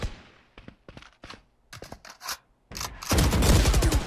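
Phantom rifle fire in the Valorant game, short sharp bursts of shots spaced apart, then a dense loud roar of overlapping gunfire and effects at the end, with no voices.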